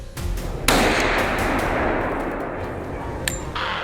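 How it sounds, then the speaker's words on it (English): Gunfire aimed at fleeing wild boars near a farm: a sharp loud report followed by a long rolling echo that tails off, then a second, fainter crack near the end, heard outdoors at close range. "I unleashed a barrage of shots at the wild boars fleeing for their lives"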